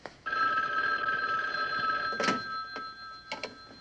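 An old-style telephone bell rings steadily and loudly for several seconds in a quiet indoor room, its sustained metallic trill holding unbroken before a few sharp clicks and knocks near the end as it stops.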